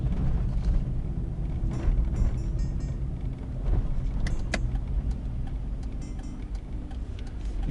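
Steady road rumble and engine hum from inside a car driving through Yakutsk and turning onto a street, with faint ticking and small rattles over the continuous drone.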